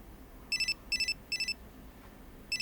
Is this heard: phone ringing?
yes